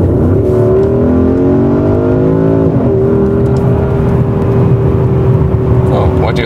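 A Porsche Cayenne Turbo Coupé with a V8 accelerating on a road through woods, a loud, continuous engine drone rising in pitch, dipping at a gear change, then climbing and holding steady, heard from inside the car.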